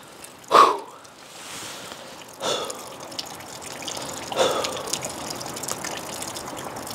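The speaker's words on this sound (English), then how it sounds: "There is a downpipe there dripping" Intermittent drips and splashes of water, a few irregular plops over a steady outdoor hiss, fairly faint and unhurried.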